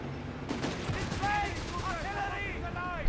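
In the World War II strategy game Company of Heroes 3, a called-in artillery barrage lands with a sharp distant boom, then several shells whistle in over battlefield rumble. A caster talks throughout.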